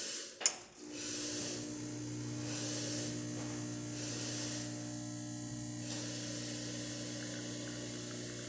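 A Rocket Appartamento espresso machine brews coffee after thermostat repair: a sharp click at the start, then a steady buzzing pump hum with rattling vibration that runs unbroken to the end, with no talk.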